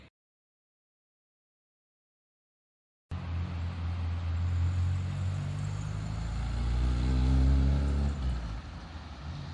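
A 1980 Vauxhall Chevette L Saloon on the move, heard from inside as a steady low engine rumble that starts after about three seconds of silence, rising slightly as it pulls, with no talk.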